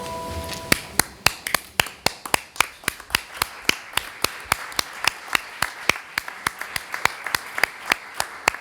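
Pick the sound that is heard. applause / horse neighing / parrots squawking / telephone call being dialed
applause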